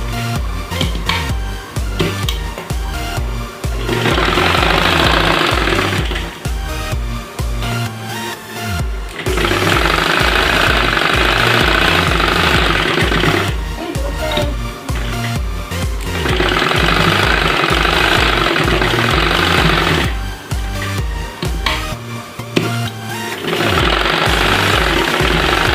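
A sewing machine topstitching a homemade fabric face mask, its motor running loud and steady in several long bursts with brief pauses between runs.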